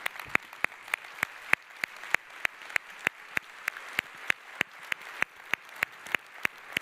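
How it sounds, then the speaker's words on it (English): Sparse, evenly spaced single claps ring out one after another in a quiet hall as council members are recognized at a presidential address, a few hands rather than a full crowd. "Let's give them a big round of applause"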